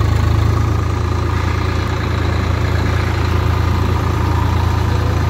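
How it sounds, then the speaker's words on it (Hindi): A Swaraj 843XM 4x4 tractor with a 50 hp three-cylinder engine idles steadily at close range, a continuous low rumble with an even, throbbing pulse and no voices. "ट्रैक्टर बिना दबे बहुत ही अच्छा काम कर रहा है"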